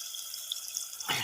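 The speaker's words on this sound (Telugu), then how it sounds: "మనకు తగ్గట్టు సరిపడా నీళ్ళు, తగినట్టు నీళ్ళు వేసుకుంటే మంచిగా ఉడుకుతాయి" Water pours into a pot of chicken curry being cooked outdoors in a mango orchard, a soft continuous splashing stream that ends with a brief louder slosh, heard faintly with no talk.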